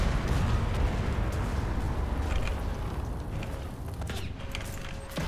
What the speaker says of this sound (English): Okay, that's a bomb as well.